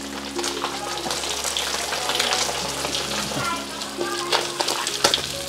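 Food sizzles and crackles in hot oil in a pan while being fried for a home-cooked family meal, with steady spattering, occasional stirring clatter and a voice talking over it.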